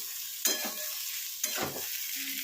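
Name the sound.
frying potatoes and pointed gourd in a pan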